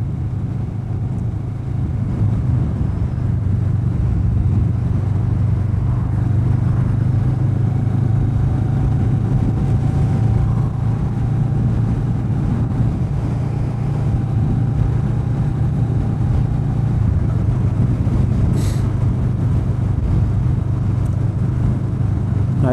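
A Kawasaki Vulcan S motorcycle ridden along streets and roads, its engine drumming steadily and loudly close up with wind rush throughout and a slight shift in pitch partway, and no talking.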